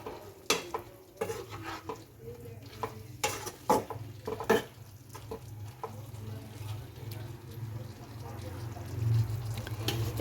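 Soya chilli made with soybean chunks and a splash of water sizzles in a pan while a spoon stirs it, with sharp scrapes and knocks over a steady frying hiss that grows louder toward the end.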